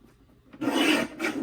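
A paper trimmer slices through cardstock, starting faintly and then giving a close, loud rasping cut that runs about half a second, a short pause, then a second shorter cut.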